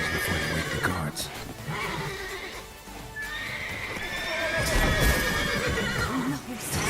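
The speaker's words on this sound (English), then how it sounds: "Gotta calm all the horses before they wake the guards." Horses in the video game The Witcher 3: Wild Hunt neigh and whinny repeatedly over clip-clopping hooves and a dense, steady game soundscape, with voices talking in the background.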